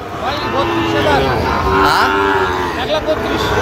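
Several drawn-out moos from Sahiwal calves overlap one another, loud and close, with a steady crowd murmur underneath at a cattle market in Cumilla.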